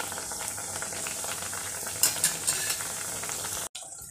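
Greens vada made with mulai keerai fry in hot oil, giving a continuous close bubbling sizzle with a few sharp spatula taps near the end and no talk.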